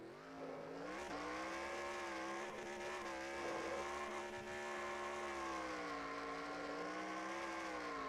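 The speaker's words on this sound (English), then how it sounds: "burn the tires off that truck maybe the longest burnout of his career" A racing truck does a long tire burnout on the front straightaway at Daytona in a racing video game, with a sustained engine roar and squealing tires that hold steady throughout, with small shifts in pitch.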